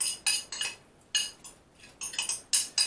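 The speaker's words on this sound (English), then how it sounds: "Just give that a mix, a gentle stir." Pastrami is stirred into a bubbling chilli con carne mix in a pan, with bursts of a utensil clinking and scraping against the metal in an uneven rhythm and short pauses in between.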